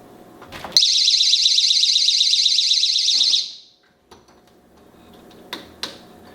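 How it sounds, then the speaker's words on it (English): A loud, piercing 120 dB electronic alarm tone from a stand-alone door alarm sensor blares continuously for about three seconds, then cuts off, followed by faint clicks and light handling noises. "the tone when it's emitted from the sensor, it is 120 dBs."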